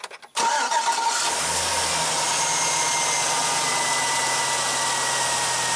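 A car on a 12-volt battery cranks briefly during a battery cranking test with a Konnwei KW208 tester, then catches and settles into a steady, loud idle with no speech.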